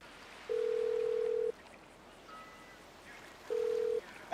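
A mobile phone call tone in the GTA 5 video game: two long steady beeps separated by a pause, with a fainter short tone between, clean and loud over quiet background.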